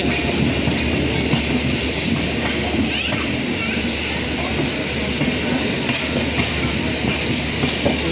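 Passenger train on the Visakhapatnam–Amritsar route running on rails with old coaches, a loud, steady rumble and rattle throughout, with people chattering nearby, including children.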